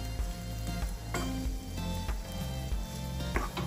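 Soaked rice flakes being stirred into a frying pan for kanda poha, a steady close sizzle with soft scraping and stirring noises running throughout, no voices.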